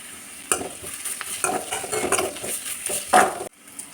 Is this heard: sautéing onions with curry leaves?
yes